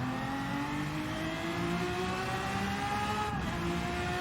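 A Lamborghini V12 Vision GT engine in a racing video game climbs steadily in pitch as it accelerates hard, a loud continuous high whine with rising harmonics throughout.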